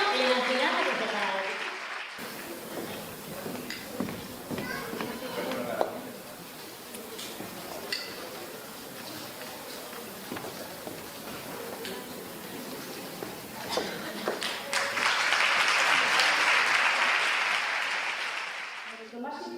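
Guests at an awards gala in a Spanish town clap under an announcer's voice. Scattered claps and talk run through the middle, then a fuller burst of applause swells near the end.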